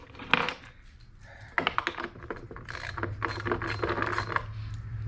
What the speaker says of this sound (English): go ahead and ratchet these down with our 9/16 ratchet